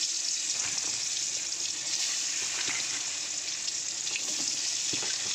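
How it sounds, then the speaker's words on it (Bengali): Pointed gourds (potol) fry in hot oil, giving a steady, even sizzle that continues close and unbroken throughout, with small crackles rising here and there and no voices. "চলো পটলগুলোকে ভেজে নিই"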